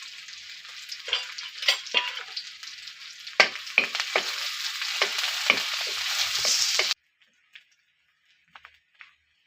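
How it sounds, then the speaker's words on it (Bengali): Chopped onions with bay leaf and green chili are stirred in hot oil, giving a steady sizzle with scraping spatula strokes for about seven seconds. Then it stops, leaving a few faint clicks. "এটা এখন আমরা সুন্দরভাবে নাড়বো।"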